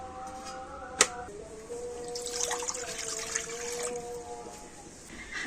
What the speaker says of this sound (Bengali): আর কড়াতে দিয়ে দেব জল।